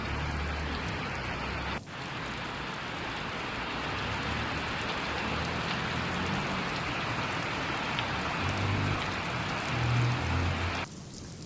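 Heavy downpour in Pune's Dhayari area during monsoon flooding, a loud, steady, dense roar of rain hitting surfaces that continues throughout with a brief dip near the start.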